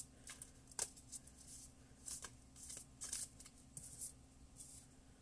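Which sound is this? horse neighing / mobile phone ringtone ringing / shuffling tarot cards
shuffling tarot cards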